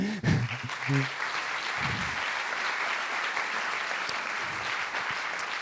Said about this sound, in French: j'aimerais d'ailleurs qu'on puisse les applaudir